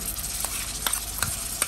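Tamarind paste going into a frying pan for leftover-rice pulihora, with a spoon or spatula scraping and stirring in several short strokes over a low steady sizzle.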